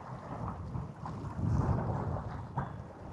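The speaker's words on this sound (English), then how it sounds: "It's a bit choppy, but there is a wind." Wind blows across choppy Lake Annecy, heard as a continuous rumbling, gusty buffeting that swells toward the middle, with no voices.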